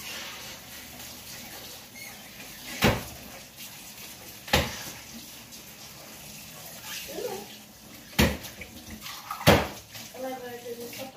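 Tap water running in a kitchen sink while a pan is washed: a soft, continuous wash of water broken by several sharp metallic clanks of the pan against the sink, fairly close.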